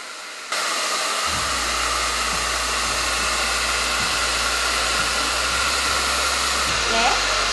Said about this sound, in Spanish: Después lo que vamos a hacer es agarrar la pistola de pelo.